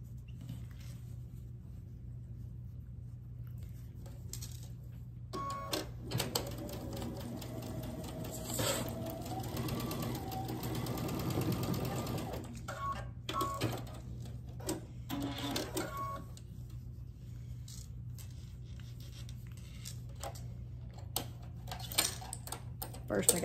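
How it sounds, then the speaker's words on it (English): A sewing machine joins quilt block pieces with a steady close mechanical whir and needle rattle that runs for long stretches and pauses briefly, over a constant low hum, while someone talks at times. "I'm gonna sew this one"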